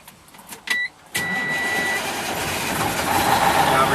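A Class A truck engine is started: a brief whine and chime, then the engine catches at about one second and settles into a steady, loud idle rumble.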